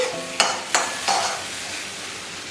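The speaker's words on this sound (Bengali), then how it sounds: "পেঁয়াজ কেটে সেটা দিয়ে দিলাম এবার পেঁয়াজটা ভাজি" Sliced onions fry in very hot oil with a spoon of ghee in a karahi, giving a steady soft sizzle broken by a few sharp scraping stirs of a spoon against the pan, fairly quiet with no voices.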